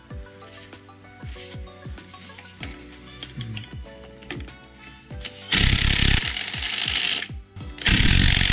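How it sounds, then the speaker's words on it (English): A ratchet clicks in quick bursts while bolts come off a Nissan 350GT gearbox, with rapid rhythmic pawl ticking close by, followed by louder, harsher stretches of ratcheting and clattering toward the end. "let's get to removing some bolts"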